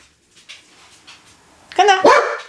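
Several dogs bark loudly at a mail carrier making a delivery, two sharp bursts of barking arriving close after a quiet stretch of faint background talk.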